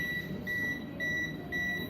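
A small electrical device emits three evenly spaced high beeps from a frozen light fixture whose ballast is leaking voltage. The beeps are clear but fairly quiet over a low background hum.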